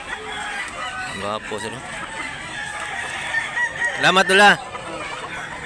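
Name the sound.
chickens clucking and crowing at a market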